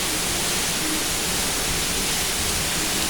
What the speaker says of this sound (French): Voilà, on est sous la cascade du Déroc.